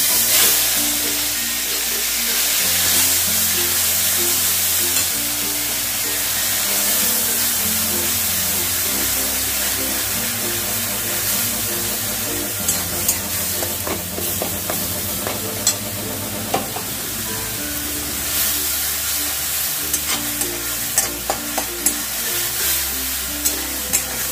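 Onion paste hits hot oil with tempering spices for a prawn curry and fries with a loud, steady sizzle, stirred repeatedly, with scraping and clicking of the spoon growing more frequent later on. No one speaks.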